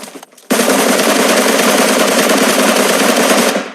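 Sustained automatic gunfire in the mobile battle-royale game PUBG Mobile, a dense unbroken burst that starts abruptly after a brief quiet moment and runs loud and steady to the end with no talk.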